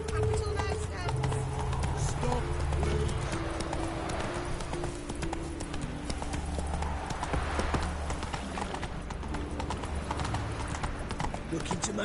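Roach the horse trots in Witcher 3, hooves clip-clopping steadily and close throughout, with game music and a voice talking over the hoofbeats.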